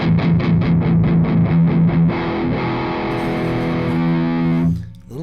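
Electric guitar driven through a Master Effects Martyr distortion pedal with its contour control turned all the way down, giving a thick, mushy tone: a run of rhythmic picked chords, then a long sustained ringing chord that cuts off.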